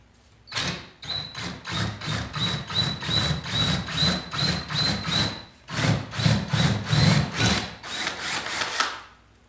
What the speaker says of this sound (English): You're drilling fiberglass?